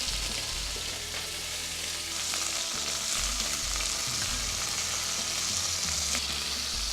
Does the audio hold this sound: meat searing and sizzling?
yes